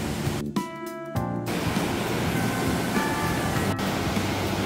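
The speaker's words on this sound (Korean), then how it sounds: "여기 용추기 아래로 물이 엄청나게 흐르네요" Heavy rushing water of a rain-swollen mountain valley stream flows below a bridge in Ssangyong Valley, a loud continuous roar that fills the scene without pause.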